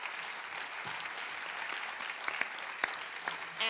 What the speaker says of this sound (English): Please, a really loud applause for this excellent set of pitches.